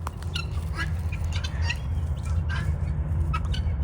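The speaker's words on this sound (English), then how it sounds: "Hi, birds." Birds in an enclosure squawk and chirp in repeated short calls over a low, steady rumbling background, close by and moderately loud, with no clear speech.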